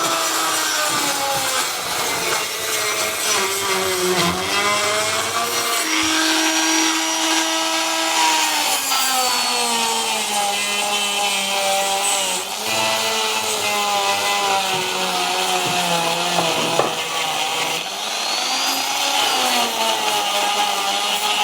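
A carbide burr tool grinds a billet aluminium brake pedal by hand for a Honda K-swap Mini mosquito supercar, giving a steady, loud, whining rasp with shifting pitch that runs continuously and alone throughout.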